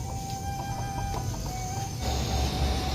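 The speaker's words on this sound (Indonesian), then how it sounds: "banyak ayam" Chickens cluck in a yard after rain, with soft repeated calls over a steady background hum, fairly close and without talk.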